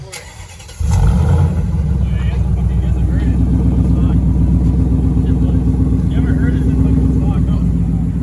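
Ford Mustang 5.0 V8 engine kicks in abruptly after a quiet start, then holds a loud, close, throbbing rumble, with people talking over it.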